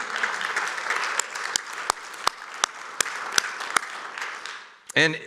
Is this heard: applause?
yes